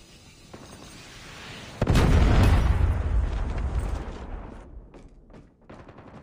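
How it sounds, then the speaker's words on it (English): A Predator missile strike from Call of Duty Mobile lands with a sudden heavy blast, a loud rumbling boom that rolls on and slowly fades amid scattered distant gunfire. "Predator missile inbound."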